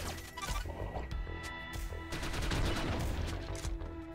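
Rapid weapon fire in The Mummy Demastered, a dense, continuous burst of retro game gunshots with crashing impact noises, loud and sustained throughout.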